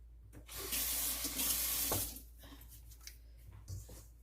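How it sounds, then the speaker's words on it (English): Kitchen tap water runs steadily into a sink for about a second and a half while hands are wet before handling bread dough, then cuts off, leaving faint splashes and drips close by. "Let me wet my hands."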